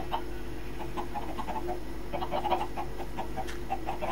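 Chickens in a Minecraft one-block chicken farm, a scatter of soft, repeated clucks over a steady hum of game background sound.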